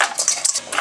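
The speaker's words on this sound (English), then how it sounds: "Throw some ice." Ice cubes tossed into a big pot of turkey brine, a quick cluster of bright clattering and clinking hits, close and brief.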